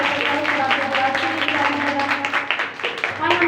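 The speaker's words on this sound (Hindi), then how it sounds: "फिर जोरदार तालियां" Hands clapping loudly in a village church congregation, with dense, steady applause running throughout and voices mixed in.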